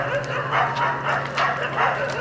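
Several dogs bark in repeated, close, loud yaps over a few seconds, with a faint voice in the background.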